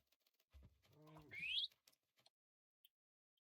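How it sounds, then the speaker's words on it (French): A small parrot in a French-language video game gives a single rising chirp-like squawk right after a brief burst of speech, then near-silence with a couple of faint ticks. "Bon, là il y a un petit perroquet."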